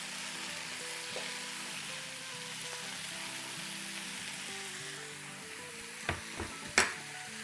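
Fenugreek leaves hit potatoes frying in a pan, bringing up a constant soft sizzle, with a few sharp clinks of stirring near the end.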